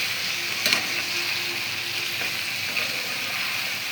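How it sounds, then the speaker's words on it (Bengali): Drumsticks and tomatoes sauté with rohu fish in a pan, a steady close frying sizzle broken by a couple of brief clinks of stirring, with no voices. "দেওয়ার পরে সজনের ডাঁটাটা দিয়ে দিলাম, টমেটোগুলো দিয়ে দিলাম,"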